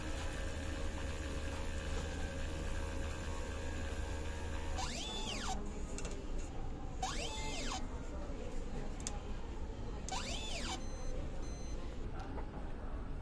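An inkjet printer runs a head cleaning cycle: a steady mechanical hum, then three rising-and-falling whirring sweeps of the print head and pump motor at regular intervals, close and moderately loud.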